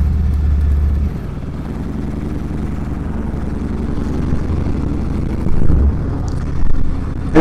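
A 2018 Harley-Davidson Fat Bob 114 motorcycle being ridden, its engine a steady low rumble throughout with slight swells near the end, close and loud with wind noise and no talk.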